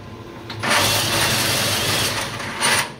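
A power driver with a socket adapter turns the drive that raises a laser cutter's bed, giving a loud close whirring burst with a short mechanical rattle at start and a second surge near the end.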